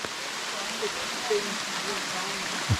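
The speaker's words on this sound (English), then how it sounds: "the rain's not going to slow down" Steady rain falls at a rocky creek, a dense hiss of drops and running water filling the whole scene evenly and close by, with a few faint knocks and movements underneath.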